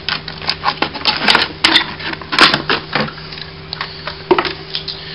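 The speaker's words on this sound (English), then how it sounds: "get your razor blade, cut off the top of the bottle" A razor blade cuts off the top of a plastic bottle with a run of close, loud, irregular clicks, snaps and scraping crackles, no talking.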